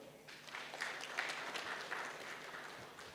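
An audience claps at a university executive council forum, a steady wash of applause from a crowded room, moderately loud with no speech.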